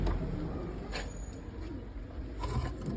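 Pigeons in a loft coo softly and repeatedly, with low murmuring calls over a quiet, steady room background and no talking.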